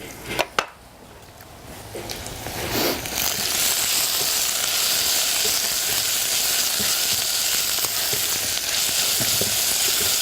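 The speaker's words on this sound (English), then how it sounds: "So here I'm actually braising the onions" Onions braising in a pan for a rustic tomato soup make a steady, close broadband sizzle that holds from about three seconds on, after a few brief clatters at the start.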